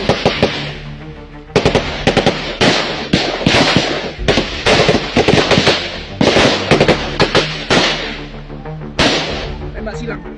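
Rapid bursts of automatic gunfire during a crossfire between Indonesian army troops and armed separatists, loud and close, with repeated volleys and short pauses throughout, and shouted voices faintly beneath.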